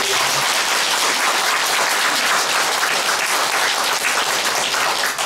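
Steady, dense applause from an audience at a political party's policy pledge announcement, holding at an even level throughout with no voices heard.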